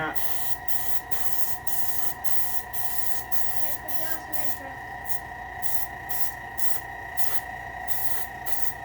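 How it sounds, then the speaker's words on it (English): A spray gun or aerosol hisses steadily during a painting job, broken by short pauses, with a constant mechanical hum underneath throughout. "be the outro of just dad spraying"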